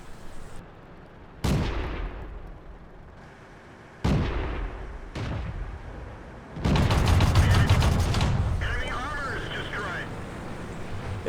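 Tank cannons boom in a World of Tanks battle, several heavy, sharply attacking shots spaced a few seconds apart, followed by a louder sustained burst of firing and rumbling, all close and loud.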